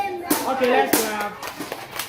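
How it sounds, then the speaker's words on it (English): Children at an academy in Ghana clap their hands together in a short burst of uneven claps, mixed with voices talking over them. "Okay, let's clap."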